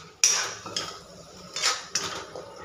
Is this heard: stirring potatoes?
yes